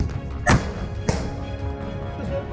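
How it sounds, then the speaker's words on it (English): Infantry firing RPG-7 rocket launchers at a tree line: two sharp, heavy thuds about half a second apart, the first louder, each with a short rumbling tail over quiet outdoor background. "Ukrainian infantry fires RPG-7s at Russian assault units at the tree line"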